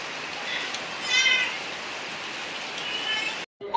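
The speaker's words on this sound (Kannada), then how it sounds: "ಇವತ್ತು ಬೆಳಿಗ್ಗೆ ಮಳೆ ಶುರು ಆಗಿದೆ." Steady morning rain pours outdoors as a soft, continuous hiss, with a faint cat meow rising briefly partway through before the sound cuts off near the end.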